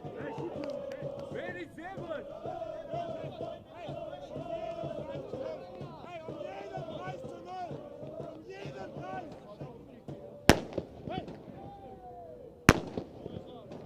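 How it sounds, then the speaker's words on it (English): Fireworks set off behind the stand during a Brighton & Hove Albion U23 v Bayern Munich U23 football match, two sharp loud bangs near the end over a constant murmur of crowd noise and a voice talking throughout. "fireworks going off in the background. Set off from behind the stand"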